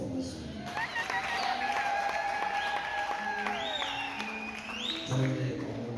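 Wedding guests applaud during the vows, a soft spread of clapping from a crowd, with a voice speaking over it.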